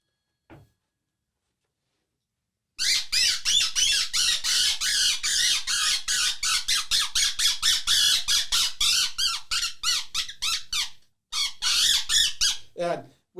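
A predator call blown through a split reed gives a rapid run of loud, shrill bird-like squawks in quick pulses after a short silence, imitating a distressed bird.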